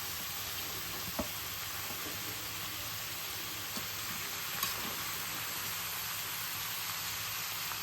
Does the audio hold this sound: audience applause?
no